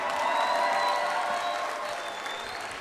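An audience at the Miss Wallis & Futuna 2020 pageant gala claps in a dense, continuous burst that fades slightly toward the end. Faint whistles ride over the applause.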